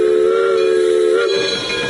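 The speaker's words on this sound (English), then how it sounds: "Let's see the first train." A steam train at Roaring Camp Railroads sounds a loud, close steam whistle, holding a single sustained tone before it fades into rumbling.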